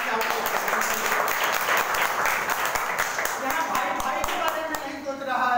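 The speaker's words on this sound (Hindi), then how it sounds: "एक बार मैं जोरदार ताली आपको" Audience applause at an International Marketing Corporation business presentation, a steady dense wash of clapping lasting several seconds with no talk over it.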